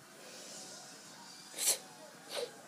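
Two quick, faint sneezes in a quiet room, the first a little stronger than the second, with a soft hiss in the background.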